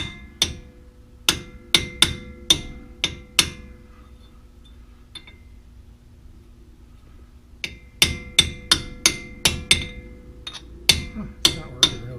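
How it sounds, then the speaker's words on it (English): Original brake rotor on a 2003 Ford Ranger struck with a hammer against a pipe, sharp metallic bangs in quick bursts, a pause, then another run of evenly spaced clanging hits, loud and close. "Kind of better than just hitting it raw with the hammer"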